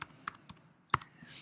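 A handful of sparse, crisp keystrokes on a computer keyboard while an email is being typed, close and quiet, spaced irregularly with a louder clack near the middle.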